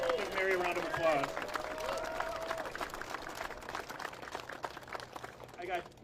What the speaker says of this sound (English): give Mary a round of applause.